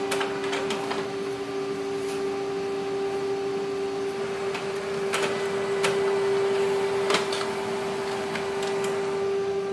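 An HP Color LaserJet Pro M283fdw laser printer runs a two-sided colour print job, with a steady mechanical whine under repeated clicks and paper-feed clatter, close and without talk.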